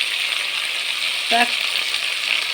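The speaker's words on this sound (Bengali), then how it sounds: "চিকেনটা তিন মিনিট মতন আর কি ভেজে নেব" Chicken fries in a pan with a steady, even sizzle and hiss, and a brief voice-like tone cuts in for a moment partway through.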